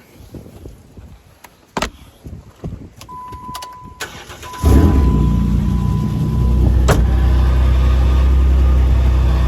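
A Jeep JKU engine, just back from an oil pan gasket replacement, cranks after some faint clicks and catches with a loud burst, then settles into a steady, close idle with a rough exhaust note.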